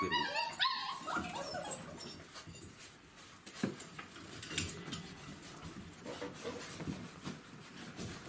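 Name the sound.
puppies whimpering with their mother dog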